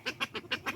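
Call ducks give five loud, nasal honking quacks in quick succession, each call short and close to the listener in a winter garden setting.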